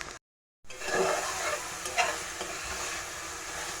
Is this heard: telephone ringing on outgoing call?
no